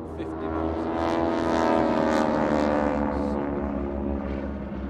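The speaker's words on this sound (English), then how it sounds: "These are 1940 Boeing Stearmans." 1940 Boeing Stearman biplanes fly an airshow display at Farnborough, their radial engines giving a steady, loud droning roar that swells and fades slightly as they pass.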